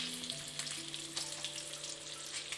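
Bacon frying in a pan with a steady broadband sizzle and scattered splattering pops, close and continuous, with a faint tonal hum underneath.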